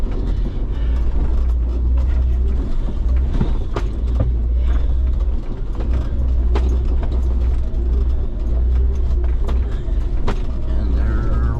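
An off-road vehicle grinds up a rough rocky trail on Old Fincastle Road, aired down to about 11 psi, its engine droning steadily under continual creaks, knocks and scrapes from the rocks.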